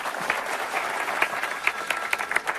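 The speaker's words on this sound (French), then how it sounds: "J'aimerais donc que vous réserviez un accueil chaleureux sous vos applaudissements au chef du service de médecine pédiatrique" Warm applause from an audience welcoming the head of a pediatric medicine department, steady dense clapping throughout with no speech over it.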